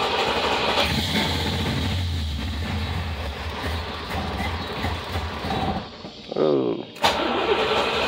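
A 1977 Chevrolet Corvette C3 with a carburetor that loads up rumbles with a low, uneven engine note. A short rising mechanical burst comes near the end, with people talking nearby.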